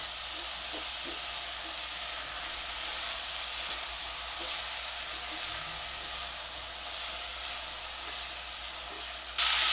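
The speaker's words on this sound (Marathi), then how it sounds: "थोडंसं परतून घ्यायचं आपल्याला थोडंसं तुपावर परतलं ना की त्याचा फ्लेवर अजून जास्त छान येतो" Sweet potato, potato and cashews sautéing in ghee give a steady, broad hiss of gentle sizzling that holds evenly throughout, with a faint clink of stirring near the end.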